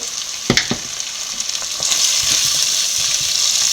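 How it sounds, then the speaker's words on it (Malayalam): Chili powder sautéing in hot oil for a sardine curry: early spatula scrapes and knocks, then a loud, steady frying hiss that swells and holds, close by with no voices. "നല്ലപോലെ പച്ചമണം മാറുന്നിടം വരെ വഴറ്റി കൊടുക്കുക"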